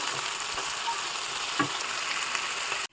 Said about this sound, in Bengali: এবার মাংসের পেঁয়াজটাকেও একটু বেশ খানিকক্ষণ 10 মিনিট ধরে সুন্দর লাল করে ফ্রাই করে